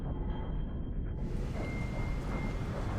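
Low, continuous thunder rumble, a broad dense roar that fills the clip at steady loudness, with a soft hiss of rain or wind layered over it.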